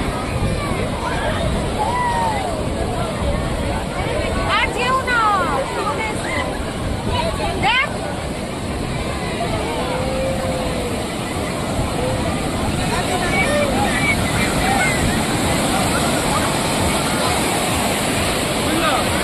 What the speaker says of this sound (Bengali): ওহ, কি বড় ঢেউ!